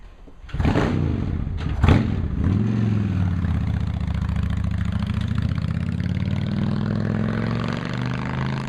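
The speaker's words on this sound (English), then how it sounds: "We're now going to ride the bike a mile or two to spread that sealant around the tire." Motorcycle engine starting up after a couple of thumps and settling into a steady low rumble close by, as the bike is readied to ride and spread sealant through its tire; no speech.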